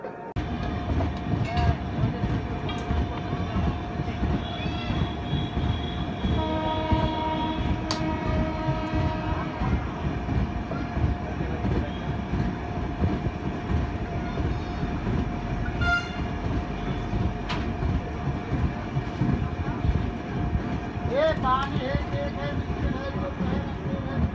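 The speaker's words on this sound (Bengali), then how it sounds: "হর্ন দিয়ে দিয়েছে, ট্রেনে উঠে পড়ি, ট্রেন ছেড়ে দেবে।" A loud horn blasts several times from the Kolkata–Jammu Tawi Express over steady rumbling and clattering as it pulls away from Durgapur station, with brief voices and a whistle-like squeal near the end.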